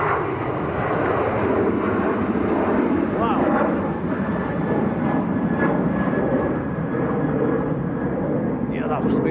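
An airliner comes in to land at Manchester Airport, its engines a continuous loud roar with a thin whining tone running through it, heard steadily throughout.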